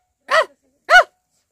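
A dog gives two short, sharp barks about half a second apart, close and fairly loud, with silence around them.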